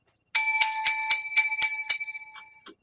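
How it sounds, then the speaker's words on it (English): Seven rings from a small bright bell, struck in quick even succession, each leaving a clear metallic ring that lingers and fades after the last strike. "Let me give him some 7 lucky bells."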